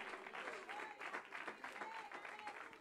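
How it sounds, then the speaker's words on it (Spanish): Brief, fairly faint crowd applause at a religious talk, an even patter of many hands with some voices mixed in. "Dele un aplauso a la generosidad de Dios."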